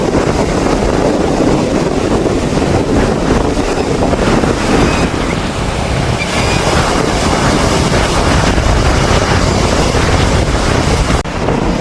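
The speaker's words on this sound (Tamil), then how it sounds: "பயங்கரமான காற்று இந்த கடல் அலைகளை வந்து பாருங்கள் பயங்கர சத்தமாக இருக்குது" Strong wind buffets the microphone while high sea waves crash and roar continuously on the Jaffna coast, loud and close, with no talking.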